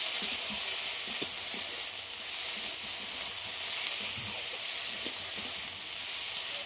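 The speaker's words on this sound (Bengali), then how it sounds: "পেঁয়াজ আদা রসুনের সঙ্গে আলুর খোসাটা খুব ভালো করে কষিয়ে নিতে হবে" Potato peels fry with onion, ginger and garlic in a hot pan, a loud, steady close sizzle with occasional soft stirring scrapes and no talk.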